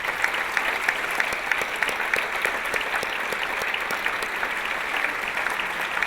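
Steady audience applause at an awards ceremony for the arts, a dense even patter of many hands clapping throughout, moderately loud and with no talk over it.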